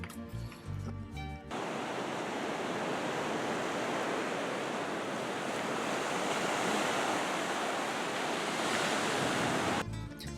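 Pacific Ocean surf breaks on a beach in Costa Rica, a continuous loud roar of waves with wind buffeting the microphone, while indistinct sounds briefly interrupt at the start and end.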